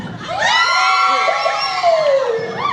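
Students scream and cheer in a loud sustained burst, high voices rising and falling together in long overlapping shrieks close by.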